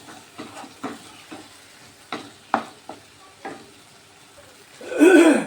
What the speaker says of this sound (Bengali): মশলাগুলোকে একটু ভালো করে ভেজে নিতে হবে